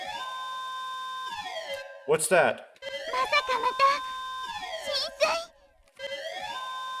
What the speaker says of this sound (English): the shrill scream of a warning siren rang loudly in my ears.